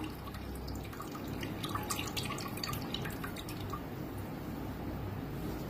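Water drips steadily as soaked grain is drained while making crisp wheat kurdai, a close, continuous patter of small drops over a wet, hissing background.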